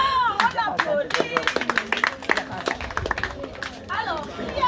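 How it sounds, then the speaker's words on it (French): Children clap together in a school classroom during an awareness session on marine pollution, a burst of quick, uneven applause mixed with excited young voices and chatter, loud and close. "On applaudit."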